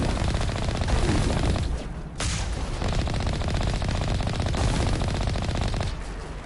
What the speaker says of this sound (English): Are they still firing at us?